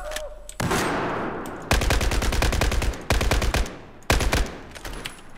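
SCAR-H rifle in Battlefield 4 firing in loud, close bursts of rapid rhythmic shots, three separate strings separated by brief gaps, with a softer noisy lead-in before the first burst.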